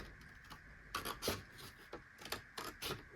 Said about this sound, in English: I'm just going to follow that line of dots and cut it right to the fold